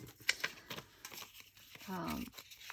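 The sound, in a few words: crumpling paper banknotes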